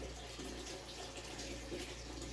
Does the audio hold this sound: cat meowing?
no